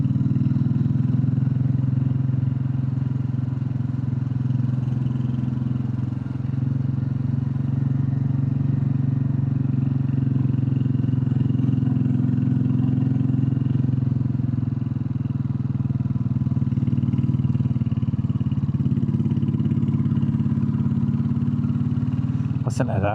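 A Royal Enfield Classic 350 motorcycle engine idling steadily nearby, a continuous low thumping drone holding at an even level throughout.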